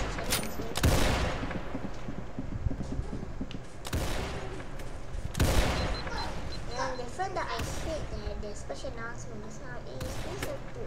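Gunfire in the video game Arsenal comes as several loud bursts and shots spread across the clip, with game sounds in between and people talking over the action.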